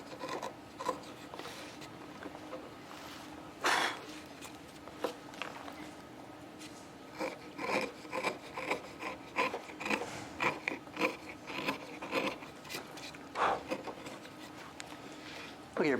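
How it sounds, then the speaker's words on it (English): A brush rubbed across the top surface of a carved wood block gives repeated dry scratchy strokes, some short and some in quick bursts, fairly quiet under a soft room background. "it's difficult to rub your brush across the top surface of the wood"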